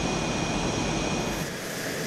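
A game airplane in Arma II lands with a loud, continuous roar of engine and airflow that fills the whole clip, steady and close, with no voices over it.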